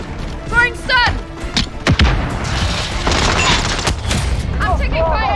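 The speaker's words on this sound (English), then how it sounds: "Throwing stun!" A stun grenade thrown during a Call of Duty Modern Warfare Domination match, a sharp bang and thud amid ongoing gunfire and battle noise, with radio-style callouts and shouted voices over the action.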